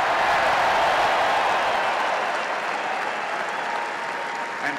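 Arena crowd applauding the Flyin' Illini basketball reunion players at a college game, a dense, steady wash of clapping that tapers slightly toward the end.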